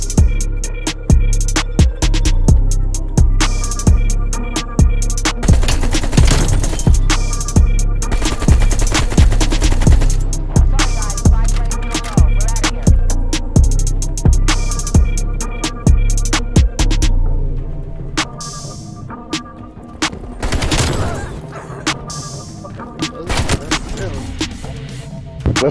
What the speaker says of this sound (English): Damn, I'm getting shooting from all over the place.